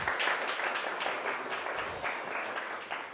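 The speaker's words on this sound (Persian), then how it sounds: "اول بذار یه تشویق کنیم." Church congregation applauding during a service, a brief round of many hands clapping that starts strong and tapers slightly, heard at moderate level without speech over it.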